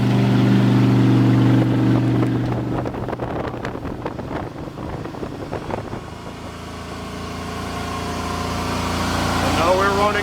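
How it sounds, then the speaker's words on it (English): 2008 Sea Ray 260 Sundeck on a sea trial with its engine running and the exhaust in quiet mode: a droning hum that fades under strong wind buffeting on the microphone, then rises again. "And now we're running in quiet mode with the exhaust."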